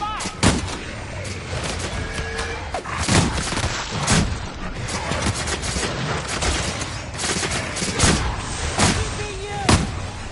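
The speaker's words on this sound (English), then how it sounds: "Opening fire!" Gunfire from The Outer Worlds, sustained and loud, with sharp shots bursting out again and again over a constant din of combat noise and faint game voices.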